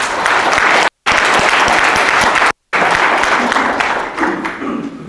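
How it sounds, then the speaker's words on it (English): A room full of people gives a loud, sustained round of applause for honored guests, with dense clapping and faint crowd murmur, cut by two brief silent gaps before it thins toward the end. "Please give them a round of applause."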